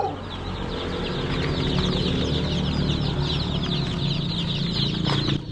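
Dense, steady chirping and clucking from a flock of chicks and fowl, close and continuous throughout with no speech.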